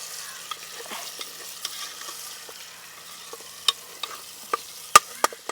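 Egg being stirred through masala in a frying pan for a rice dish, with a soft ongoing sizzle broken by a series of light scraping clicks from the spoon that grow sharper toward the end.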